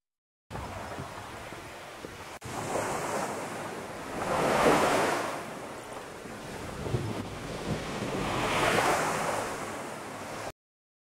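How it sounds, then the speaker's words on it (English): AI-generated ocean waves crash and wash in two slow, rolling swells that rise and fade, with a gusty wind-like rush throughout and no voices. "and also ocean wave crashing."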